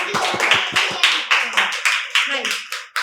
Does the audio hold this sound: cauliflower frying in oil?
no